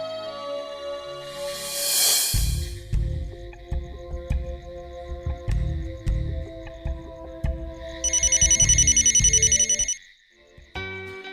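A telephone rings indoors, its bell trilling in two bursts, a long one near the start and a shorter one later, with thumps and household clatter in between and no talk over it.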